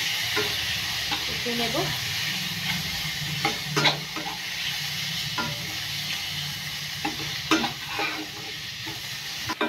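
Spice masala is stirred and fried in a pan for South Indian sambar, with a constant sizzle under repeated scraping stirs and clinks of the spoon, and someone speaks briefly.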